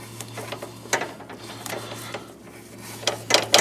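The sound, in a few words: tightening alternator bolt on Honda 1.7L engine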